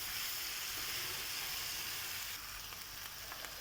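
Pork coated in masala paste sizzles steadily in a pan while it is stirred for a curry, a close, continuous frying hiss that stays even throughout, with a few faint scrapes of stirring near the end.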